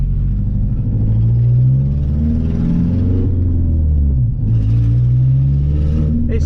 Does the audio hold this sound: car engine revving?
yes